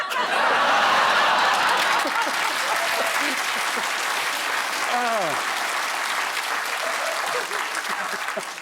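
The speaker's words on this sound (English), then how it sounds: "That's got the biggest round of applause I've ever had." Studio audience of a British TV panel comedy show applauds loudly and steadily, mixed with chuckles and laughter, while voices talk and exclaim over the clapping.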